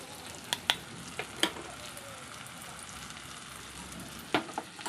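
Ground spices (cumin, coriander, chilli powder) frying with onions in a pan for a potol aloo chingri curry, a steady soft sizzle broken by several sharp spatula scrapes and clicks.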